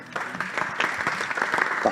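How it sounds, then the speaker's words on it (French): An audience at a French e-tourism pitch competition applauds, a dense burst of close clapping that holds steady for about two seconds. "et on peut vous applaudir d'ailleurs."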